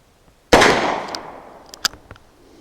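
.44 Special handgun fired outdoors at a range: one sharp loud shot that decays over about a second, followed by a few faint clicks and small taps.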